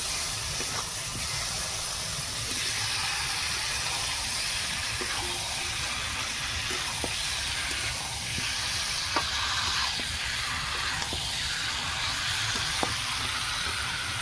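Fried potatoes tipped into a pot of hot oil and garam masala for Kashmiri aloo dum, giving a steady, even sizzle and hiss that runs throughout with faint clinks of a utensil and no voices.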